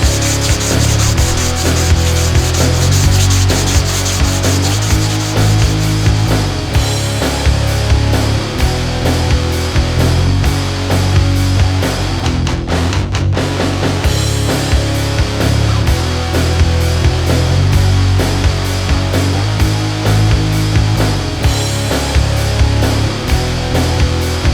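Steady abrasive rubbing of a sanding block worked back and forth over the primed hood of a Formula Firebird, loud and continuous with a repeating stroke rhythm and no voices.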